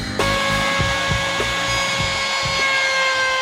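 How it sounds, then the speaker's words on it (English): A wood router runs a chamfer along an edge during boat window-frame work on a 25ft Bertram, a steady high whine with repeated low thumps and bites as the bit moves along the wood. "I'm gonna route here down like this so I can get this edge and put a chamfer on it"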